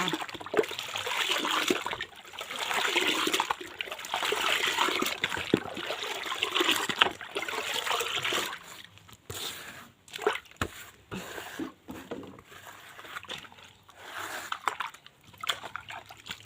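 Dish soap glugs and splashes into a container of water and is mixed in, a continuous gurgling, trickling wash that later breaks into scattered splashes and clunks, close by, with a voice speaking occasionally.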